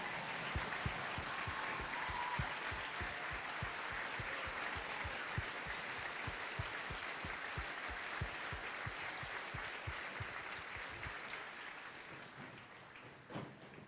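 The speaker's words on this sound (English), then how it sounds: "Join me with a round of applause for the..." Crowd at a Fort Jackson basic combat training graduation ceremony giving a steady, distant round of applause for soldiers, a dense even wash of clapping held for the full length with faint thumps underneath.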